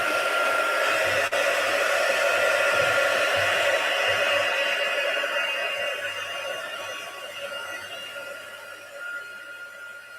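A heat gun blows hot air in a steady, loud rushing hiss with a faint whine, easing slightly quieter toward the end with no talking.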